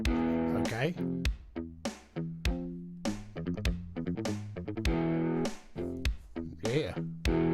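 Guitar riff generated by the Riffler app on iOS, clean with no distortion, a string of plucked notes and chords in a steady rhythmic pattern with sharp attacks and short decays, played close and clear.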